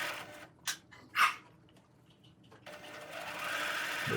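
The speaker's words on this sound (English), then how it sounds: "And now with a twin needle, I'm starting at my seam underneath the shirt when I sew." Sewing machine with a twin needle stitching a shirt hem from the side seam, with a few short bursts of whirring stitching, a pause, then a longer steady run at the end, no talking.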